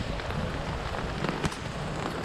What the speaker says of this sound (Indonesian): Di luar hujan, di dalam kenyang.